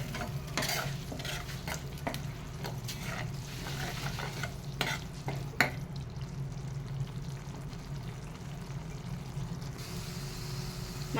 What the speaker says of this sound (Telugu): ఇదంతా మనకు పచ్చి వాసన పోయేదాకా బాగా ఫ్రై చేసుకోవాలి